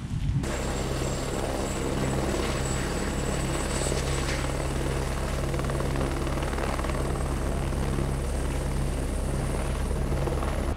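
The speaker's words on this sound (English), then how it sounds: "I'm gonna get this drone home" A drone flies steadily overhead on its way back above the water near a fishing spot, a continuous rotor buzz with a low hum that holds at an even, fairly loud level throughout.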